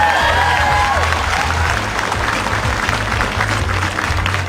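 Applause from a school quiz-competition audience for team C at SMAN 14 Jakarta, a dense loud clapping wash mixed with crowd noise and background voices and music.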